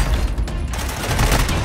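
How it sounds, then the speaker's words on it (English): Dense, overlapping gunfire from two players in a shooter video game rattles continuously for under two seconds, loud and close, with rapid shots blending into a steady barrage. "Two people were shooting at me."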